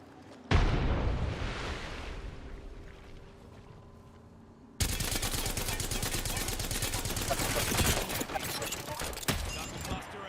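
A grenade blast in the shooter game Nightmare Reaper booms at the start and fades, then dense rapid gunfire rattles on loudly to the end.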